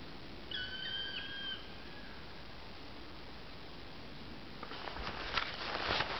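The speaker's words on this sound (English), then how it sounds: "Green woodpecker." A green woodpecker calls outdoors at a winter camp: a few faint repeated whistled notes early on over steady wind-like hiss, then a burst of rustling noise near the end, with no talking.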